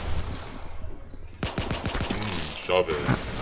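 Rapid bursts of gunfire in the Roblox shooter Arsenal, loud and close with sharp repeated shots after a quieter start, mixed with game sounds and a voice talking over the action.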